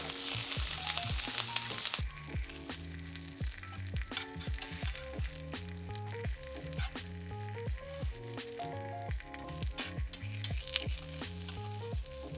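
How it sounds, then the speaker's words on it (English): A chuck roast seared in a pan for birria, giving a loud, continuous close-up sizzle and crackle of frying meat that steps up in intensity after a couple of seconds and holds steady, with no talking. "So now I'm going to sear off my chuck roast."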